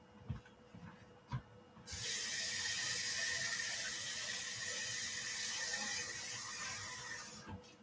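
Water runs steadily into a steamer pot for several seconds, a loud, continuous hissing pour that starts abruptly after a few faint knocks and keeps going at an even level.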